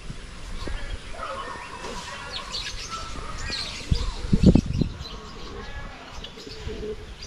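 Pet pigeons let out of their cage, cooing and chirping with a burst of wing flaps near the middle, over a background of outdoor noise and occasional talk.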